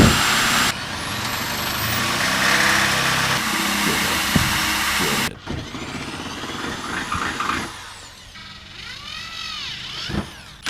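A loud, whining power drill drills holes while fitting fender flares on a Subaru Forester, running in long sustained bursts with a rising-and-falling pitch, pausing between runs, with some clunks and handling noise.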